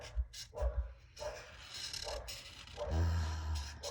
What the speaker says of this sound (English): And I hear the dog.